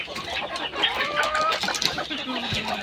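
A broody desi hen clucks nearby in a short run of throaty, uneven clucks over light background noise.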